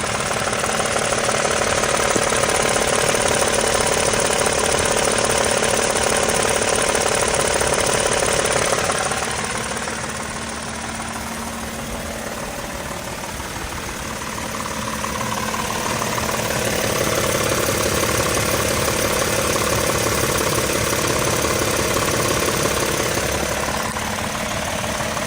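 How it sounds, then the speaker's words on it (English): A brand new 2026 Toyota Tundra with about 1,100 miles runs with a loud, steady engine noise carrying a rough, knocking rattle, dipping slightly in the middle before returning. "owners are already trying to crowdsource answers for strange engine noises"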